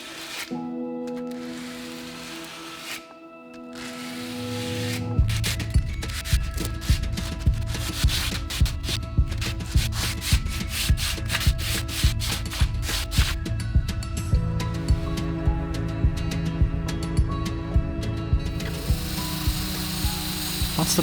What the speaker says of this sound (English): that grained appearance is developed further using a coarse grit sandpaper